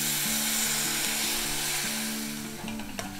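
Vinegar hits hot gooseberry pickle in a pan and sizzles in a steady, hissing wash, fairly soft, with a small click near the end.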